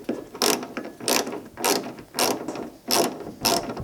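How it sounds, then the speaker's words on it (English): A ratchet fitted with a 1/4 inch socket bit turns a Phillips screw during Honda S2000 bumper removal, giving six evenly spaced bursts of rapid clicking, close and loud, with brief quiet gaps between strokes. "I've got a ratchet with a 1/4 inch socket bit on it."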